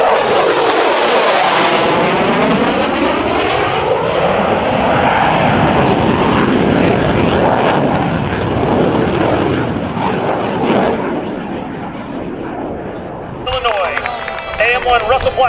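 F/A-18 Super Hornet jet passing at an air show: a loud roaring engine sweep that swells, peaks and slowly fades as it passes, with an announcer talking over it.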